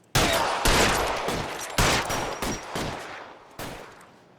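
Gunfire in L.A. Noire: a burst of sharp shots followed by several spaced single cracks with echoing tails, loud and close, no voices.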